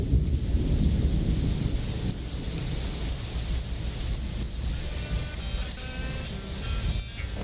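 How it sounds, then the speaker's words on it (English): Steady heavy rain pattering on surfaces on Manitoulin Island, with low rumbling thunder underneath throughout; constant and fairly close. "And it's raining."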